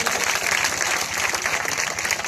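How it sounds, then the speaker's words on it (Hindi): Dense, steady applause from a crowd at an outdoor political election rally in Kaimur, Bihar, sustained and even throughout with no voices standing out. "सभी साथियों के नाम पर जोरदार ताली बजा करके स्वागत करिए।"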